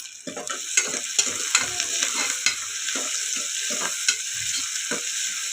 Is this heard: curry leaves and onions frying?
yes